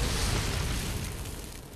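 A grenade explodes in the Resident Evil Remake game, one loud close boom that fills the sound and then slowly rumbles and fades over nearly two seconds.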